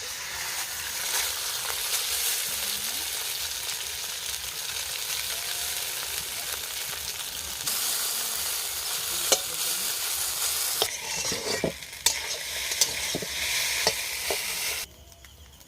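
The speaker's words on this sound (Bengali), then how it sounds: "আমি এবারে সিদ্ধ করা চাউটা কড়াইতে দিয়ে দেবো।" Boiled chow mein noodles sizzle loudly in a hot kadai, with a continuous frying hiss broken by scraping and clattering stirs of a spatula against the metal wok.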